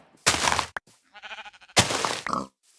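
A sheep bleats in a video game, a single wavering animal call between two bursts of louder grunting sounds, close and clear with no speech.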